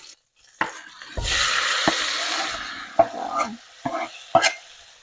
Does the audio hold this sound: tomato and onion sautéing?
yes